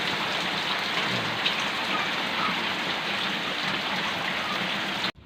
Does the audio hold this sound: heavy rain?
yes